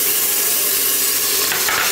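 Minced garlic sizzling in bacon grease inside an Instant Pot, a loud steady hiss close up with a brief stirring swell near the end, no voices.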